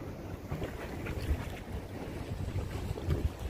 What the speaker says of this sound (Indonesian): Ombaknya luar biasa ini